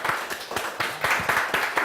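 Comedy club audience applauding a comedian, Ollie Coyle, a fairly faint round of clapping with uneven bursts of many hands pulsing through the short stretch.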